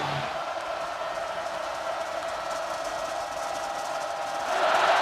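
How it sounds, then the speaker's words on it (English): A huge stadium crowd roars at a college football game between Ohio State and Penn State, a dense continuous wall of cheering that holds steady and swells louder near the end, distant and enveloping. "Well, the roar is louder than ever now."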